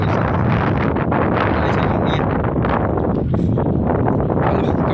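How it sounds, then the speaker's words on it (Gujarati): Strong wind buffets the microphone in a continuous loud, roaring rush with gusty swells and no clear pauses. "પવન છે ફૂલ."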